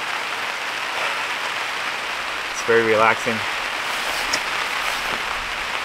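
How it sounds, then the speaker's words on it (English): Heavy rain and wind beat on a tent during car camping with a hot tent, a steady close patter that runs throughout while a person speaks briefly partway through. "Just a lot of very heavy rain and wind."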